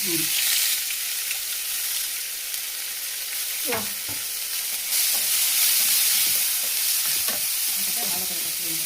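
Cumin, onion, garlic and ginger fry in oil in a pan with a continuous sizzle, broken by the scrape and clatter of a stirring spoon every second or so.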